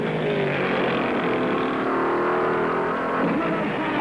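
Race cars at the 1968–69 Daytona 500, including a white number 98 Ford, roar steadily into the last turn as a huge crowd rises, a dense continuous engine drone with no breaks.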